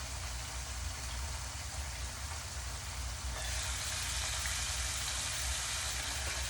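Steady, crackling sizzle of tilapia frying in a hot pan, continuous and close, growing a little brighter partway through.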